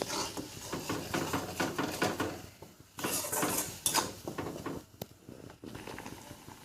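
Spice paste of red chilli, garlic and onion being stirred in oil in a cooking pot, quiet scraping and knocking of a utensil against the pot in an irregular rhythm, close and alone.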